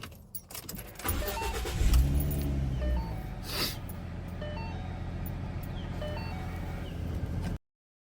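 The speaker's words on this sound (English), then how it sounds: "so we'll start the car back up and everything should be resolved" A Ford Mustang engine cranks and catches after a purge valve install, settling into a steady idle that runs close and loud for several seconds before cutting off abruptly.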